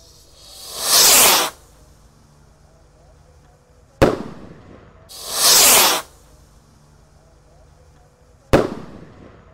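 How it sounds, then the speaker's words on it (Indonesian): Roman candle firework rockets go off twice during a Takbiran night, each with a loud rising whoosh of launch followed a few seconds later by a sharp, close bang. "Ini roket Roman candle juga."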